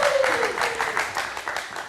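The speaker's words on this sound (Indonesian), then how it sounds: "kita kasih tepuk tangan sekali lagi." Short burst of studio audience applause on a late-night live talk show, clapping throughout with a host's voice sliding over it at the start.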